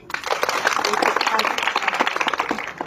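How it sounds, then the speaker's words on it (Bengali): An audience claps steadily and densely throughout for actress Ananya Chatterjee at a live Madam Sengupta show in South City, Kolkata, with voices mixed in over the applause. "আপনাদের সবার প্রিয় অনন্যা চ্যাটার্জি, একটা হাততালি হোক।"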